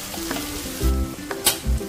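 Spices sizzling loudly in hot oil for mutton liver masala, with bursts of frying crackle and stirring clatter close to the pan, no voices.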